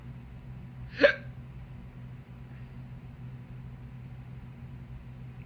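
A single sharp hiccup pops out near the start, loud and close, followed by several seconds of quiet room noise with a faint low rumble.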